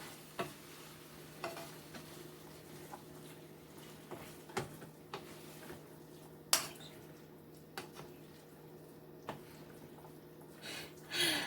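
Canned beans being stirred in a pot, giving soft, irregular scraping and clinking taps against the side every second or so, with a low steady background hum and no talking.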